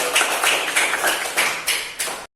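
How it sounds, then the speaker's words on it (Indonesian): Schoolchildren in a classroom give a round of applause: a dense, close wash of hand claps with a few sharper accents, lasting about two seconds before cutting off. "tepuk tangan buat adik-adik"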